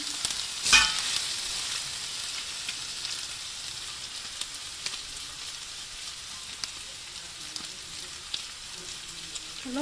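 Garlic-ginger paste and cumin powder frying in a pan for a vegetable dish, giving a steady, faint sizzle with a brief louder spatter near the start.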